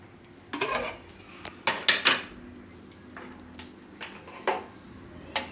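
A metal kadai being handled on a home kitchen stove before frying paneer, with sharp clanks and knocks of metal against metal coming in irregular clusters, close by and without talk.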